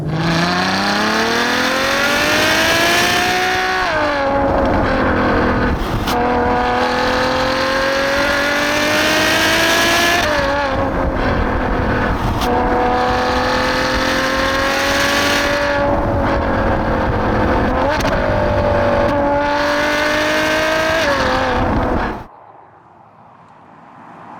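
A Ferrari FF V12 accelerates hard along a tight road, its engine rising in pitch through repeated gear changes with brief dips between them, loud and close, before falling away into quiet at the end.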